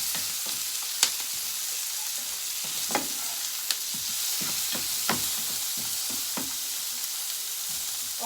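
Vegetables for an American breakfast frying in a pan while being stirred: a steady hiss of sizzling with scattered scraping clicks of the utensil, close and moderately loud, no talking.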